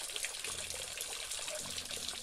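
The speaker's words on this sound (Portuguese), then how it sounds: "uma das primeiras coisas que você tem que olhar é isso aí, ó. Água." Water trickling and splashing steadily on a rural farm property in Brazil, a soft continuous babble heard close but at low volume.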